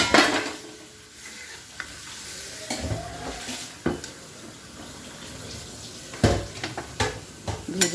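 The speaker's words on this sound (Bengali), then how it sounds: "তো বন্ধুরা আমি এবার জল দেব" Water is poured into frying masala and stirred, giving a loud crackling sizzle and splashing that settle into softer bubbling, with repeated spoon scrapes and knocks against the pan.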